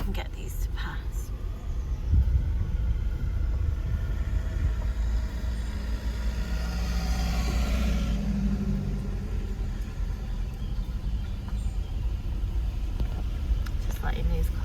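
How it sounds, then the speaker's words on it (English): Cars passing along a country road, a low rolling rumble that swells as a vehicle goes by close and then fades, with a faint voice and ambient outdoor noise underneath. "Just letting these cars pass."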